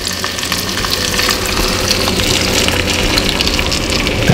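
Egg mixture for a cured meat omelette sizzles loudly in a hot pan, a dense, steady crackling hiss that stays close and constant throughout, with no voices over it.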